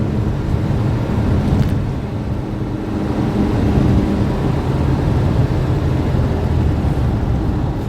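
A 1960 Volkswagen Beetle convertible cruising down the road, heard from the driver's seat as a steady low engine drone mixed with road and wind rumble, loud and continuous with no talk.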